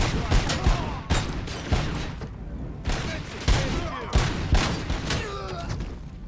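Rapid bursts of gunfire from several weapon types in the video game RoboCop: Rogue City, sharp repeated shots and thuds at an irregular rhythm with booming impacts, loud and close, with game voices in the mix.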